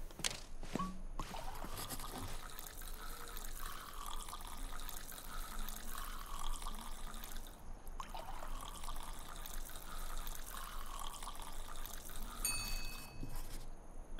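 Whiskey pours into a bar glass in the saloon video game Saloon Simulator, a quiet liquid trickle that repeats in two soft stretches with no talking.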